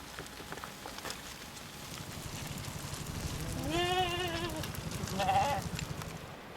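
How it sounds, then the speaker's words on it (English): Two sheep bleats ring out from grazing sheep on wide pastures, the first long and wavering, the second shorter, over a steady background of soft rustling and light patter. "passing wide pastures, with grazing sheep and yaks"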